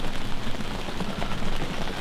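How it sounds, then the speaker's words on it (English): Rain falling outside a hunting blind in the Upper Peninsula of Michigan on a cold October day, a steady dense patter on surfaces close by, with no one speaking. "It's in the 30s, it's been kind of off and on, rain, snow all day."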